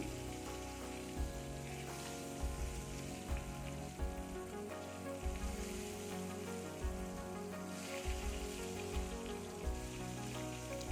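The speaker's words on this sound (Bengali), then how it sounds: "এদিকে বেগুন লবণ হলুদ মাখিয়ে ভাজতে দিয়েছি" Brinjal slices coated with salt and turmeric frying in a pan, a continuous crackling sizzle throughout, with occasional soft clunks of the pan or utensil and no talking.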